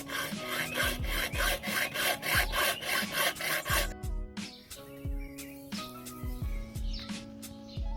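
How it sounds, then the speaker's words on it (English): A hand saw cuts through poles measured to 80 mm for DIY rocket legs, with about four seconds of fast, steady rasping strokes and then slower, uneven scraping, loud and close. "now I'm just going to measure out the 80mm and cut the poles"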